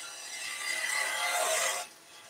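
A spindle gouge shapes a turned wooden table skittle on a lathe, giving a steady, close scraping rasp for about two seconds before it cuts off into quieter workshop hum.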